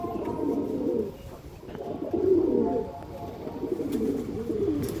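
Pigeons coo close by in soft, low, rolling phrases that repeat every second or so, with a faint voice in the background.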